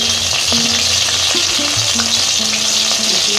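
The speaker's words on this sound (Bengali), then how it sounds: "ভাজা হইতে থাক" Battered lote fish pakoras fry in hot oil with a loud, continuous close-up sizzle, dense crackling, and occasional clatter of a utensil stirring the pieces.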